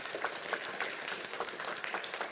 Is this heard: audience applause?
yes